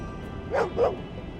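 A dog in the video game Lost Odyssey gives two short, soft barks about a quarter second apart, over a steady low background hum.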